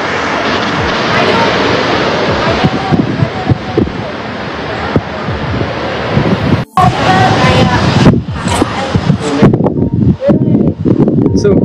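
Aircraft engine roar from an airplane bound for Surabaya, a loud continuous drone with wind buffeting, heard up close with voices talking over it.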